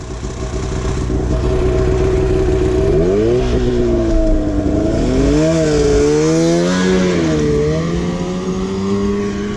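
A 2017 Honda 450 kickstart dirt bike engine runs loud and close, first a steady buzzing idle, then repeated revs that rise and fall in pitch.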